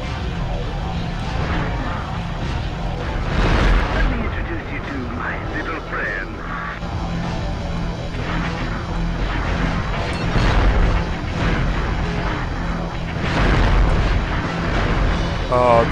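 Mortar rounds exploding in the game Future Cop LAPD, several deep booming blasts spaced a few seconds apart over a constant rumbling backdrop, with voices talking in between.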